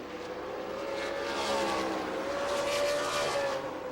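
Race cars roar around the track at New Smyrna during a Sunbelt Series points race, with a sustained, loud engine whine that swells and fades as the cars pass, with no commentary over it.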